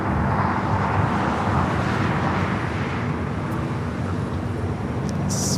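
An American Airlines jet lands on runway 25 left at LAX after a flight from Las Vegas, its engines making a loud, steady roar that lingers without letup.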